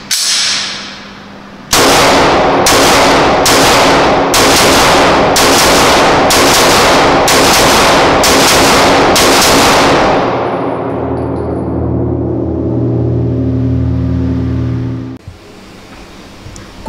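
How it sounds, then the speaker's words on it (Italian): A Stoeger STR-9L pistol in 9x21 fires nine loud, sharp shots in a steady, evenly spaced sequence, each crack ringing out before a lingering echo and quieter mechanical handling afterward. "Non resta che vedere come spara."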